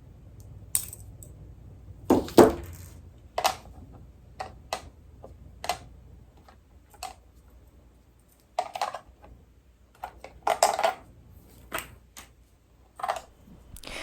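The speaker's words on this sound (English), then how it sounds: "you're going to take a pair of wire cutters or heavy duty scissors and cut off the back of the pins" Wire cutters snipping the backs off pins: a scattered series of sharp metallic clicks and snaps, some louder than others, spaced irregularly over a quiet background with no talk.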